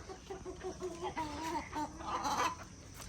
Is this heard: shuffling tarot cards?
no